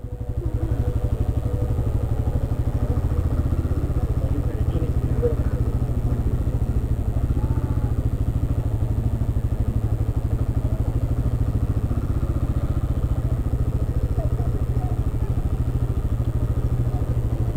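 Royal Enfield Himalayan 450 single-cylinder motorcycle engine running at a steady, loud idle up close, its rapid even thumping pulse continuing throughout while people talk over it.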